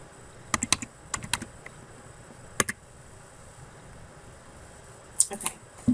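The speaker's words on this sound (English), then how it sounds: "I'm going to type that in." Keystrokes on a computer keyboard at a library checkout desk come in short, sparse clusters of crisp clicks close by, with quiet pauses between the bursts of typing.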